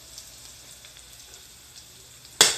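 Garlic frying in a pan for rice, with a faint steady crackle under near silence that ends in a sudden loud hissing burst.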